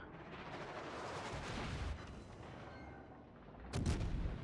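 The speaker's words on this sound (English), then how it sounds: "And Alabama's shooting at us." Heavy naval guns boom from battleships in World of Warships, a deep rumbling roar that swells and fades, with one sharp near blast near the end.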